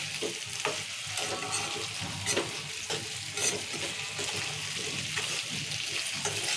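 Drumsticks frying in oil with tomato curry ingredients as they are stirred with salt, giving a steady broadband sizzle with scraping spoon strokes at an irregular rhythm, close and moderately loud, no talking.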